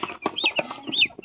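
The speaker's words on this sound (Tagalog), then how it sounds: "Wow, sisiw." Young chicks peep and cluck in quick high chirps, close and fairly loud, with a few brief calls overlapping.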